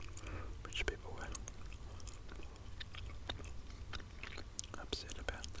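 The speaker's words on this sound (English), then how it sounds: "after 9 minutes and 17 seconds is where I start chewing some chewing gum" Soft, close whispering mixed with moist chewing of a piece of gum in a quiet ASMR setting, the wet smacks and clicks coming steadily throughout at low volume.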